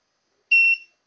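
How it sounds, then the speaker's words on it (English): Xeltek SuperPro 500P device programmer giving a single sharp electronic beep, a clean high-pitched tone lasting about a quarter second after silence, close and clear with nothing else heard. "It gave beep when it is complete."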